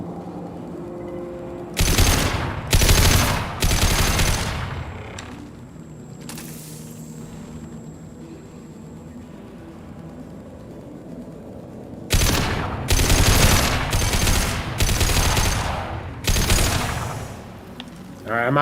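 Bursts of automatic gunfire in the Mass Effect 2 Legendary Edition video game, loud, close volleys in two clusters split by a quieter stretch of ambient game sound.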